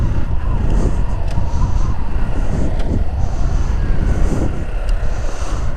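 A motorcycle engine runs steadily on a riding practice course as the rider shifts down into first gear and lightly applies the rear brake. There is a continuous, fairly loud mechanical drone with small fluctuations and no clear pauses.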